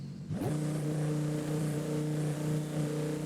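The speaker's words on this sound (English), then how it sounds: "now rev it up" A car engine in Forza Horizon 5, held at full lock with the handbrake on, revs up sharply and then holds a steady, loud, droning tone close by, with no talk over it.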